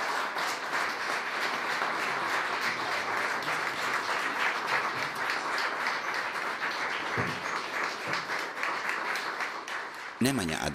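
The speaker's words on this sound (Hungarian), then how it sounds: "egy egyórás koncertjét vastapssal díjazták az egybegyűltek" A crowd applauds at length after an hour-long concert, dense steady clapping that fills the room, with a voice starting to speak at the very end.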